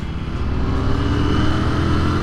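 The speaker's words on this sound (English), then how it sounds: "The dual stock exhaust is very quiet." Royal Enfield Continental GT 650 motorcycle with dual stock exhausts, running with a quiet, steady engine note. A continuous low rumble holds at an even level for the whole stretch, with no talk.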